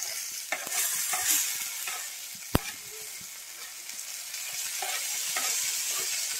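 A spicy tomato curry is stirred and fried in a pan, with close scraping strokes and a bright, steady sizzle throughout and one sharp clink partway through.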